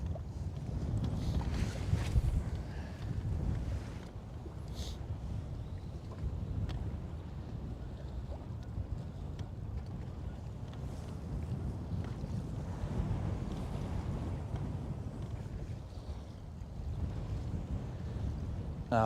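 Breezy wind buffets an open boat out on a lake, a continuous blustery roar with gusty surges and faint water slaps, close and moderately quiet, with no talking.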